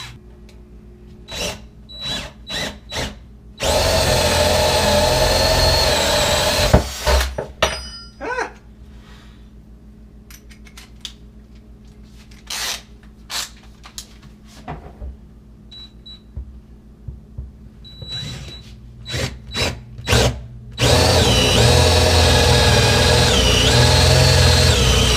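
A power drill bores starter holes through a wood countertop for a top-mounted sink, with two loud sustained drilling bursts of a few seconds each, separated by clicks, knocks and handling noises.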